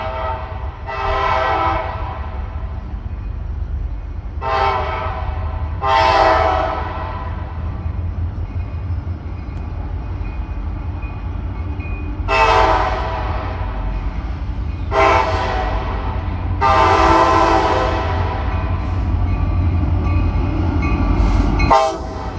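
A CSX freight train hauled by SD40 locomotives rumbles past near Marion and Bucyrus with a continuous low roll. The horn sounds in a series of loud blasts, short and long, spread across the passage.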